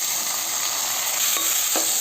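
Tomatoes added to a hot frying pan sizzle loudly and steadily, a bright continuous hiss with a couple of soft stirring scrapes near the end.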